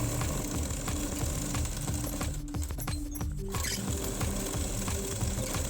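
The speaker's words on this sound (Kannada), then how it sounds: "2 ಪೀಸನ್ನು ಇಟ್ಕೊಂಡು ಮೇಲಿಂದ ಮೇಲೆ ಇಟ್ಕೊಂಡು ಸ್ಟಿಚ್ ಹಾಕೊಳ್ಳುವಂಥದ್ದು. ಈ ರೀತಿ ಸ್ಟಿಚ್ ಹಾಕೊಳ್ಳೋಣ." Sewing machine stitching two stacked fabric scraps together for a homemade purse, a steady, loud mechanical whir with rapid needle ticking that runs unbroken throughout, briefly easing for a moment midway before resuming at full pace.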